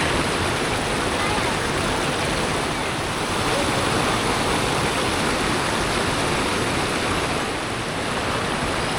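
Steady broad rush of a big river flowing, a continuous loud wash of water with no clear voices over it.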